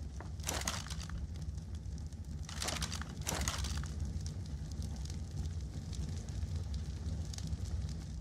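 A campfire burning while meat cooks in the ARK video game, a steady low crackling rumble with a few sharper popping bursts near the start, heard alone without talk.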